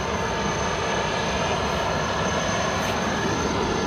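An Airbus A340 taxis at Frankfurt Airport in frosty de-icing weather, a steady broadband jet engine roar with a thin high whine, constant and loud throughout.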